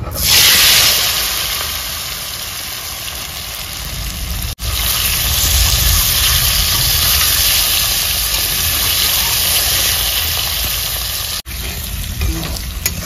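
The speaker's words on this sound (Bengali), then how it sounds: "সেদ্ধ করা আলুটা ভেজে নেব।" Boiled potatoes fry in hot oil in a kadai, giving a loud, steady sizzle with crackle that holds throughout, broken by two brief cuts, with no talking.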